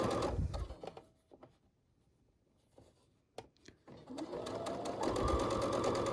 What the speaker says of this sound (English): stretch my elastic as I'm sewing